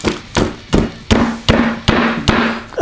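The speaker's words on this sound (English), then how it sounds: "Lay the lollipop on the surface and take your hammer and just hit it till it breaks." A hammer strikes a lollipop laid on a hard surface, eight sharp knocks in a steady rhythm, each close and loud with a brief ringing tail, the candy cracking under the blows.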